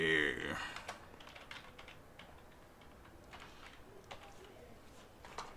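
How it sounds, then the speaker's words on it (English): A name typed on a computer keyboard: a brief loud sound at the start, then a steady run of light, close key clicks over a quiet room background. "Let me type the name"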